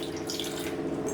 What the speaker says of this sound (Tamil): ஒரு 1/4 கப்பு தண்ணி.